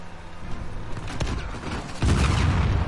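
Rapid gunfire from the video game Uncharted, with a burst of close shots crackling in quick succession, then a heavier booming blast near the end, loud and without talk.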